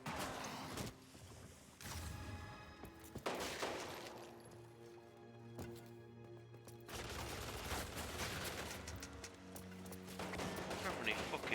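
Gunfire from Resident Evil on the Sega Saturn, with rapid game shots and crashing impacts layered over droning music, fairly quiet and continuous throughout.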